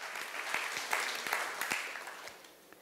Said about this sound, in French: Est-ce qu'on peut applaudir ce Dieu-là qui croit en nous malgré ce qu'on fait